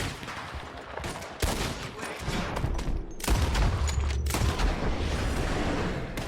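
A shootout erupts in Red Dead Redemption 2, with repeated loud gunshots and rapid bursts of fire cracking close by in quick, irregular volleys amid booming reports and rumbling background noise.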